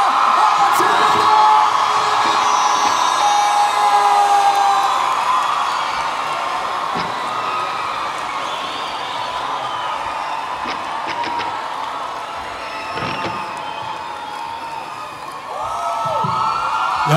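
A big outdoor concert crowd at a Red Bull Jukebox show in KüçükÇiftlik Park claps, whoops and cheers loudly and continuously, the roar easing slightly midway and swelling again at the end.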